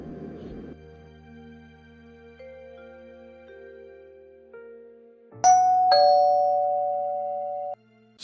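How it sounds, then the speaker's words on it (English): A cartoon doorbell chimes a two-tone ding-dong, close and clear, ringing out in an otherwise quiet room. "I'll go ring the doorbell."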